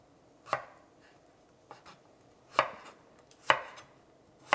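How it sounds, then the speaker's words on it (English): A knife chops through cucumber for a Greek salad on a cutting board, giving five sharp, separate cuts at an uneven pace, close and clear, with no talking. "I'm going to slice through the middle."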